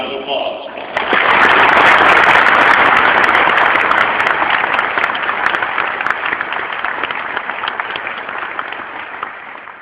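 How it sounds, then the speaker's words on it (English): A conference audience at the annual ACFE Fraud Conference opening ceremonies breaks into applause for the Board of Regents, a loud sustained wash of clapping that swells quickly after a brief lead-in and slowly tapers while staying strong. "Please join me in recognizing the Board of Regents with a round of applause."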